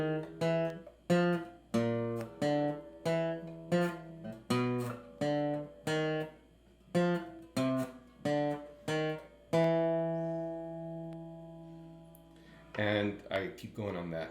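A beginner guitarist, a 49-year-old learner, picks a finger exercise of steady single plucked notes on the strings, close and fairly quiet, ending on a sustained ringing note followed by a brief rustle.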